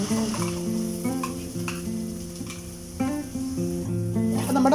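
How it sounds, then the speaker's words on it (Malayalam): Ground masala stirred into frying onions and cabbage in a pressure cooker for cabbage biryani, a soft continuous sizzle with spoon scraping and stirring strokes at close range. "ഇതിലേക്ക് അരച്ചു വെച്ചിരിക്കുന്ന മസാല കൂടെ ഇട്ട് ഒന്ന് മിക്സ് ചെയ്യാം."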